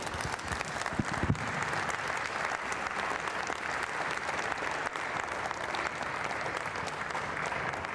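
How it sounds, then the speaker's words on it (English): A ceremony audience at the Richmond Public Safety Awards applauds: dense, sustained clapping from a crowd that stays steady for the whole stretch, with no speech over it. "Round of applause, please."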